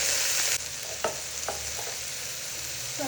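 Butter sizzling and frying in a pan while being stirred, a steady hiss broken by a few scraping stir strokes, close and moderately loud with no talking.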